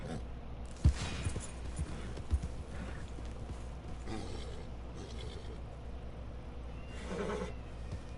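A horse in a video game whinnies and snorts amid scattered hoof thuds and background noise, with a louder neigh near the end.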